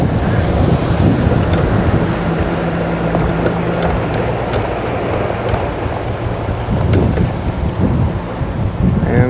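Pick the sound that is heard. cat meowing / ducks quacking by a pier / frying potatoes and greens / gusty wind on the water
gusty wind on the water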